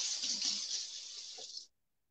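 Running tap water splashes steadily as a fork is rinsed beneath it, a close, hissy rush lasting under two seconds before cutting off abruptly into silence.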